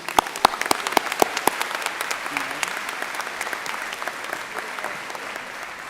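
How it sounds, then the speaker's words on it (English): An audience at an opening day event for teachers and staff claps, starting with a few sharp, distinct claps that quickly blend into steady, moderately loud applause. "Let's give them a round of applause, too."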